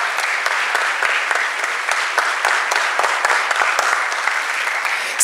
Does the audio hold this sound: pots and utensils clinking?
no